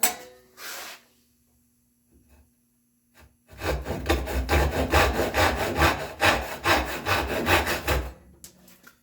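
Handsaw cutting the sides of a dado joint in wood for a spice rack shelf, a steady series of close, loud back-and-forth strokes after a few brief quiet touches.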